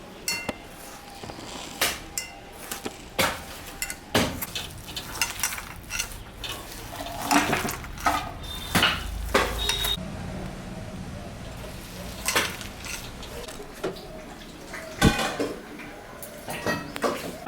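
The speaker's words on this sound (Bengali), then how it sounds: "একটা ডিম আমি এখানে ফাটাই দেব এটা দিয়ে এখন ভালো করে মাখাবো" Ridge gourd pakora batter being mixed by hand with a cracked egg in a bowl, with soft irregular squelches and occasional clinks of the bowl, close and fairly quiet.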